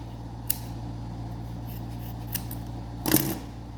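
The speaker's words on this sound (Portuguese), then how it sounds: "agora nós precisamos cortar essa lã" Wool yarn is cut by hand with scissors, one crisp snip near the end after a couple of faint small clicks, quiet against a low steady hum.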